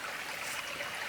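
A waterfall in the bush below a hiker coming off a ridge, a continuous rushing wash of flowing water, soft and steady, heard for only a moment with nothing else over it.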